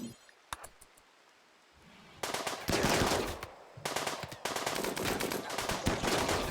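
A plasteel mini turret fires in a video game, with a few isolated sharp shots early, then dense rapid bursts of automatic gunfire in two long stretches, loud and up close.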